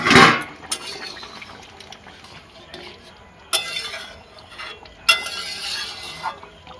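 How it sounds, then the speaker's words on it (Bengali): Metal lid lifted off a pot of vegetarian potato curry (aloo dum) with a sharp clink at the start, then softer clatters of cookware and a faint hiss of simmering in a home kitchen. "ঢাকনা খুলে দেখে নেবো আলুর দম কতদূর হলো"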